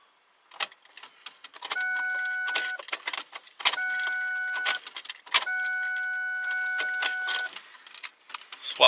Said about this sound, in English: cycle the key on and off